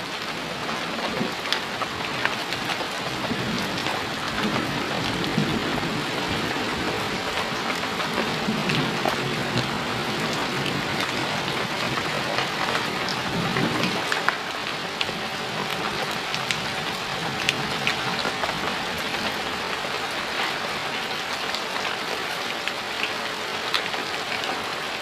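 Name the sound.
heavy rain in Sukabumi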